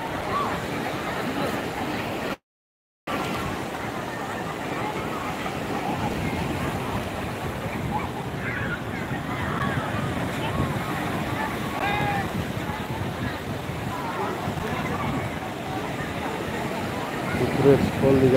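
Sea waves washing onto Old Digha beach, a continuous broad surf wash mixed with wind buffeting the microphone and distant crowd chatter.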